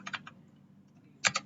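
Faint, close keyboard typing while entering network commands to assign an IP address, in a computer science networking lesson. A short cluster of key clicks is followed by a quiet gap and then another quick pair of keystrokes.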